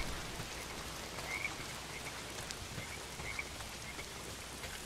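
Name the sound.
heavy rain in Days Gone video game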